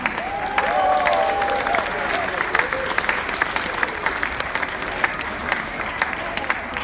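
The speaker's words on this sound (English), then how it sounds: "Please give them a big big round of applause." Passengers applaud the ship's officers aboard the Jewel of the Seas during a transatlantic cruise, a sustained round of clapping from a large room with scattered cheers and voices mixed in.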